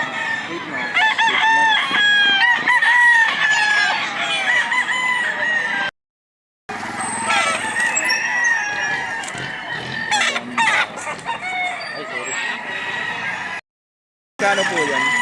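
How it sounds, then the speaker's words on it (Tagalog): Fighting cocks at a rooster market in Lipa, Batangas, crowing repeatedly in loud overlapping calls with scattered clucking, several birds close by, with people talking in the background and two brief silent gaps. "Napakagandang manok."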